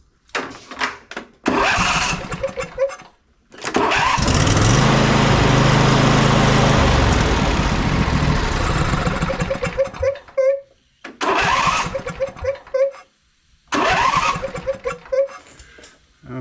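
A riding lawn mower engine cranks with the starter and turns over for several seconds, loud and close, between bursts of clicking and mechanical handling around the machine.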